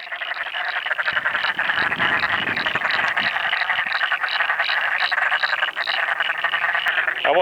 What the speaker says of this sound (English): Frogs are loving the recent rain we've had.